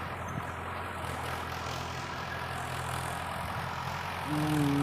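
A 2007 model 605 Arjun tractor, formerly a dozer, runs steadily at idle with a low, continuous engine drone, rising slightly in loudness near the end.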